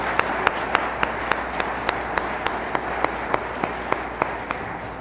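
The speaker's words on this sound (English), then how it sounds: "So let's give her a round of applause." Audience applause at a scholarship ceremony, a steady wash of many hands clapping with regular sharp claps standing out, moderately loud and continuous throughout.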